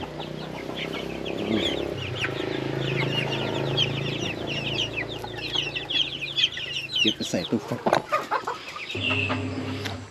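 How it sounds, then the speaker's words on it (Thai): Small bantam chickens, white and gold with black tails, cluck and chatter continuously nearby, with a person speaking briefly in Thai over the birds toward the end. "ด้านนี้ครับก็จะเป็นไก่แจ้นะครับ"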